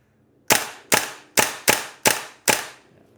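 An airsoft gun fired on semi-auto: six sharp, close, loud cracks spaced roughly half a second apart, each decaying quickly, with no talking.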